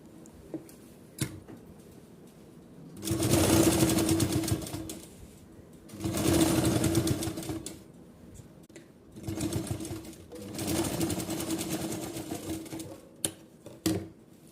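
Sewing machine stitching a designer blouse neck with a 9.5-inch neckline, running in three loud, steady bursts of a few seconds each, separated by short pauses with faint handling sounds, with no talk.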